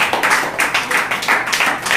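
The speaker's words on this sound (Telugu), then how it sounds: "చప్పట్ల పట్టండిగా." An audience at a Christian sermon claps in a steady, rhythmic beat, with brisk, evenly spaced bursts repeating throughout at a moderate, fairly close level.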